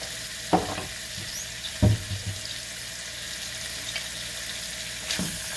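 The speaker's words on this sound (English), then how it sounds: "while I brown my lamb, I'm going to add some Jamaican jerk seasoning" Lamb browns quietly in a pan with Jamaican jerk seasoning, giving a soft continuous sizzle broken by a few sharp clinks and scrapes of stirring.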